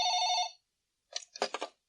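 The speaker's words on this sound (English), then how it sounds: "One morning in August, Joanna answers the phone" A telephone bell rings in one bright trilling burst, then after a short silence a shorter broken ring follows, close and clear with no voices.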